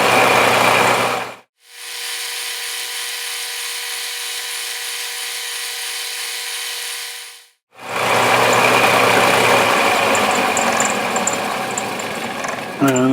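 A metal lathe faces off the end of a small machined knob, a steady whirring cut in two bursts separated by a long humming pause as the spindle runs, close and fairly loud.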